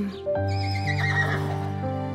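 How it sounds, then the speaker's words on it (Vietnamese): Cartoon unicorn in an animated fairy tale gives a loud, close neigh, a rising then trembling whinny lasting about two seconds over a steady musical drone, with faint hoof clip-clop hinted beneath. "Thiên thần Sera nhận ra ngựa một sừng Buckley"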